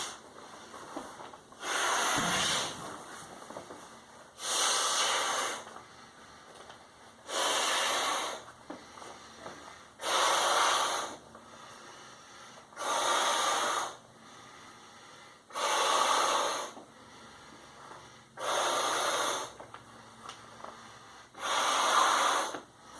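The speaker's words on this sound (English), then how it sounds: "So this pad takes about 15 to 20 breaths to blow up" A person blows about nine long, steady breaths into a Klymit Static V sleeping pad to inflate it, each exhalation close and evenly spaced with brief pauses between.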